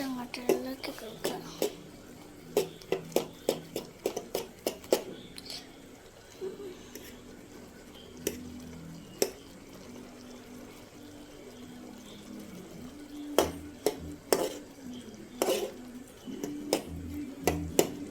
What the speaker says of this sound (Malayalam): നന്നായിട്ട് അങ്ങോട്ട് ഇളക്കി കൊടുക്കുക